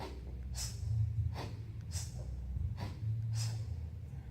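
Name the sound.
forceful exhale during kettlebell swing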